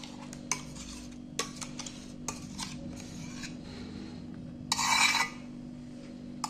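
A spoon scrapes ground chicken filling out of a mixer jar into a bowl, making scattered metallic clinks and taps followed by one longer rough scrape, close and fairly quiet, with no talking.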